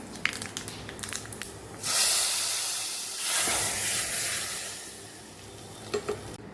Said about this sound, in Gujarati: ગેસ હવે બંધ કરીને આપણે વઘારને ઉપરથી ઉમેરી દેશું